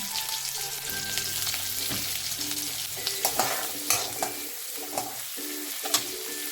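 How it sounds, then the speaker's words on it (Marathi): Onion fries in a little oil in a home kitchen, a steady close sizzle broken by repeated scraping stirs and light clinks of the utensil against the pan. "थोड़स तेल टाकले कांदा टाकते"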